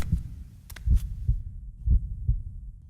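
Heartbeat thuds from the horror game Death Mark, a steady double-beat pulse repeating about once a second, low and booming, with a brief higher chime early on and no voices.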